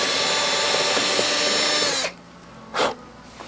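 A power drill bores holes for the landing gear screws of a Strega ARF model airplane, a loud steady whine that cuts off after two seconds, followed by one short burst of drilling, with nobody speaking.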